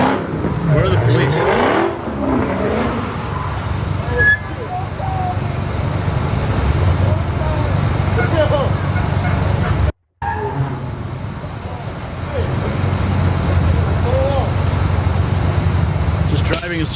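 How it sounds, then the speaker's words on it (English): Cars drive in circles around a burning car on a city street, engines revving and roaring continuously over a loud, rumbling outdoor background, with voices and shouting mixed into the noise. "Just driving in circles around a burning car."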